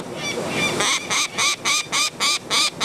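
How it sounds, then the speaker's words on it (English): An adult female peregrine falcon screams from an urban nest box as a chick is handled, giving a rapid series of about seven harsh, rhythmic calls, loud and close over steady background noise. "the adult female bursts from the nest box, screaming her rage"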